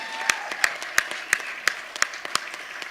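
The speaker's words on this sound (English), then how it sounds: "Another big round of applause for our brothers and sisters from Brazil." Slow, evenly spaced claps, about nine in under three seconds, fairly faint and steady, honoring award winners from Brazil at a collective action award ceremony.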